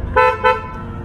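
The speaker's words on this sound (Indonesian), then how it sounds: "Terus ini klakson." Two short horn toots from a 2015 Toyota Vios in quick succession, loud and close, over a low engine hum.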